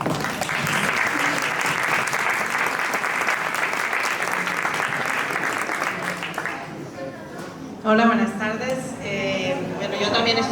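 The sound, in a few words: audience applause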